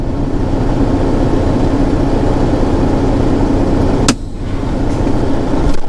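A truck sits idling close by during a long loading delay, its engine giving a steady, loud low drone throughout, broken by one brief sharp click near the end.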